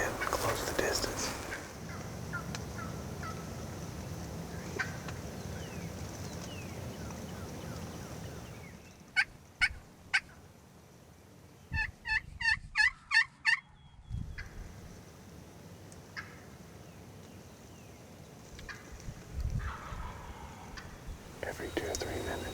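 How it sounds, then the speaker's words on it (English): A wild turkey gobbler gobbles during a spring turkey hunt, a series of sharp rapid gobbling bursts at moderate distance rising out of quiet woodland ambience, with faint whispering before and after. "Every 2 or 3 minutes, that bird gobbles"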